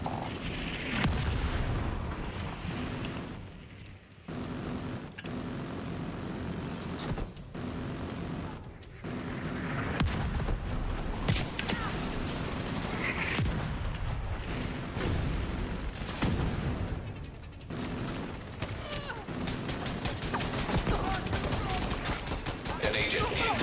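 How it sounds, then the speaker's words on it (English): Autocannon and mortar fire rattle through a video-game firefight, with repeated booming bursts and dense gunfire running steadily throughout, loud and close, under intermittent voices. "The autocannon seems to be firing blind."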